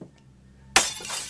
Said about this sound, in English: One of the football players accidentally threw the football at the school window and it shattered.